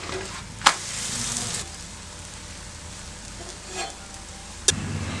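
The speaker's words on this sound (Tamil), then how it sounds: "இப்போ நம்ம இந்த சைடு திருப்பி போட்டுக்கலாம்." A vegetable egg omelette frying in a pan after being flipped, a low steady sizzle with a few sharp knocks of the spatula, close and unaccompanied by speech.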